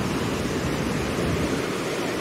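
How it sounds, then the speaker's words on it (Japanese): Fukiware Falls in Gunma, Japan, a broad waterfall pouring down over a huge single slab of rock into foaming water, makes a steady, loud, close rush of white water with no break and no voices. "こっから流れ落ちた滝がまあまあ勢いがあって"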